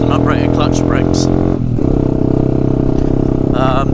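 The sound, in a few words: Honda Grom motorcycle engine revving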